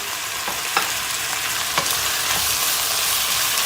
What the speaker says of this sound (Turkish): Hemen elimizde ne varsa domateslerini döküyoruz.